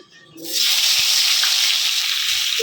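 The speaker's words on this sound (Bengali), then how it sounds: "আমি সব মাছ ভেজে নেবো" Parshe fish full of roe hitting hot oil in a pan, a sudden loud hiss after a brief quiet start, settling into a continuous, strong sizzle.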